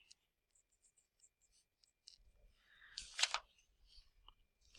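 Faint pencil scratches on a sixth-grade integer subtraction worksheet come as light, sparse ticks at first. They build into a denser burst of writing up close, over near silence.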